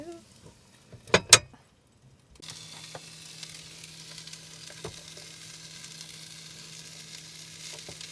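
Red cabbage and Yorkshire pudding go into a pan on a campervan stove: a couple of quiet clunks, then a steady, close sizzle that starts abruptly and runs evenly to the end, with a faint low hum underneath.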